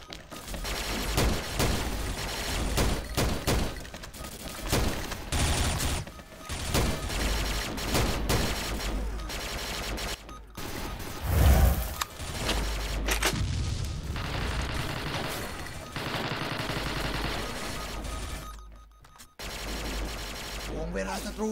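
Rapid bursts of gunfire and explosions from the online shooter game XSHOT, dense and continuous for most of the stretch, mixed with game effects and a player talking over the action.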